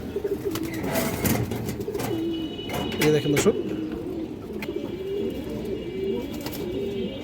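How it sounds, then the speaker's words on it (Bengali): Silver line pigeons of an old ring-eyed line coo softly and repeatedly in a close group, the low murmuring continuous beneath a voice speaking over them. "সিলভার লাইনের কবুতর আছে মাশাআল্লাহ"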